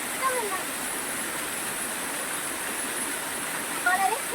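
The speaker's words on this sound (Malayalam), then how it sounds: "ഇത്ര ഒരു ചെറിയ വെള്ളച്ചാട്ടമാണെങ്കിലും വളരെ നല്ല രസമുണ്ട് ഇവിടെ." A small waterfall pours steadily in a broad, even rush of falling water that holds constant from start to finish, with no clear voices over it.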